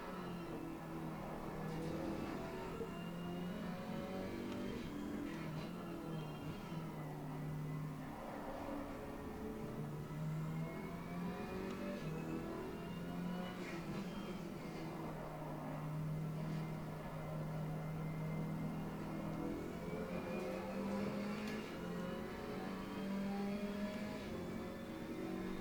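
Race car engine in Assetto Corsa Competizione on PS5, droning steadily and rising and falling through gear changes and revs as it laps the circuit, loud and continuous with no talking.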